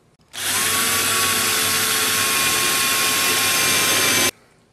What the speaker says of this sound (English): take your jumbo storage hook and drill a hole right in the center of this spot around your mounting screw holes, using your 1/4 inch